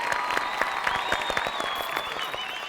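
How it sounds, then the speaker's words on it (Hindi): An audience at a poetry competition breaks into lively applause, brisk overlapping claps with a bit of crowd noise, moderately loud and continuous. "अरे जरा जोरदार तालियां।"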